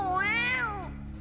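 A cat gives a single drawn-out meow in an animated cartoon, rising and then falling in pitch over about a second, close and clear with no talk over it.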